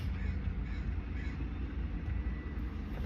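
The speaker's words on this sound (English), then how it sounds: "I'm hearing birds right now" Crows cawing outdoors over a steady low rumble of background noise, the calls faint and distant and partly buried in the ambient roar, with no voices.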